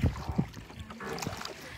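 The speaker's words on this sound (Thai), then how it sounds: "ที่นี่เขาใช้เรือที่พายโดยคนนะคะเราไม่ได้ใช้เครื่องยนต์เลย" A hand-paddled boat with no engine glides on an evening river cruise in Thailand, with soft, sparse splashes and gurgles from the strokes heard faintly and close by, no talking.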